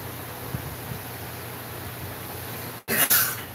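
A single sharp sneeze bursts out near the end, close and loud, after a few seconds of quiet room hum.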